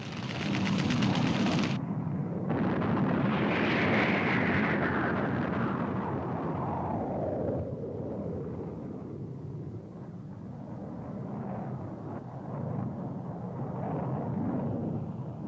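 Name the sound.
airstrike explosions and aircraft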